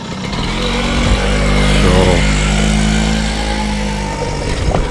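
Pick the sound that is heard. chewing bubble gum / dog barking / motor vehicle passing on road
motor vehicle passing on road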